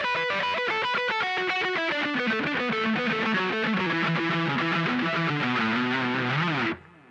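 Distorted electric guitar plays a fast extended pentatonic riff of repeated notes in steady groups, climbing across strings, loud and close, then cuts off abruptly near the end with no talking.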